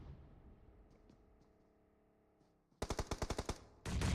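Video game match gunfire strikes a player: a rapid burst of about eight sharp automatic shots rings out loud and close after a murky background rumble, then another dense burst cuts in at the end.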